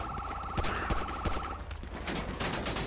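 Gunfight in GTA V with the LSPDFR police mod: several sharp, close gunshots in a quick irregular burst, over a steady warbling siren-like tone and background din.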